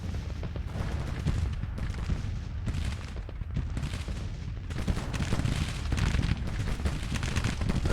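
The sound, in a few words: gunfire from Grand Tactician: The Civil War video game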